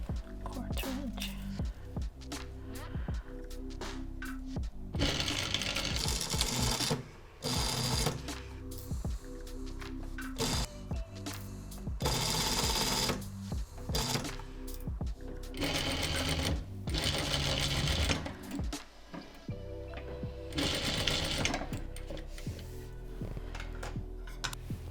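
Domestic sewing machine stitching fabric for a homemade face mask, repeated bursts of rapid rattling stitching separated by short pauses, close and clear.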